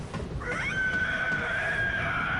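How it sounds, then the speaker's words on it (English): A creature's scream in a video game, a rising shriek that settles into a long sustained high tone lasting about two seconds, heard alone over a low background rumble. "Oh, I hear a scream. And that's not a good scream either."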